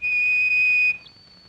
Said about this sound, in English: One should listen for their shrill, piercing whistles